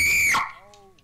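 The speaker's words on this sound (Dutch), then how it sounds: "Als kinderen zo hard kunnen schreeuwen" A child playing Fortnite lets out a loud, high-pitched scream that breaks off sharply after under half a second, followed by fainter electronic game tones.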